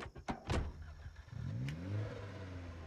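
A car engine in the zombie survival game Project Zomboid cranks over with a few sharp starter bursts, then catches and revs up into a rising, steady mid-pitched drone, close and alone with no voices.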